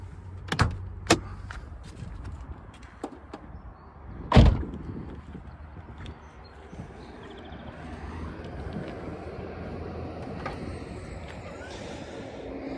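The hood of a 2008 Toyota Solara SLE is unlatched and raised: a few sharp clicks, then one solid thunk of the latch releasing, followed by faint rustling and handling noise.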